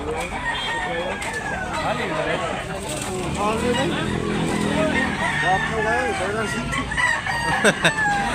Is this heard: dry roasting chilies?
no